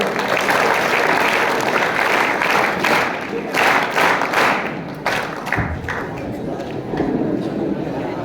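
An audience claps at a school science exhibition and results ceremony, producing dense, loud applause with sharp individual claps and thumps, which tapers slightly amid crowd murmur.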